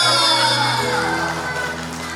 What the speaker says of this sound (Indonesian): Sekali lagi tepuk tangan yang paling meriah.